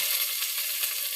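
Onions hitting hot oil with popped mustard seeds for poori bhaji, a brief, bright, continuous hiss of sizzling heard close and alone.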